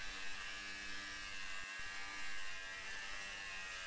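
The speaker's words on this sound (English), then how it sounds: "you'll see that the grinder seems to catch periodically" An angle grinder cutting along a straight edge with weights keeping it on track whines steadily and high, with slight wavering in pitch as the tool periodically catches.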